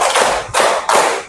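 Children clap in unison in a classroom counting game, three loud, close claps spaced evenly about half a second apart.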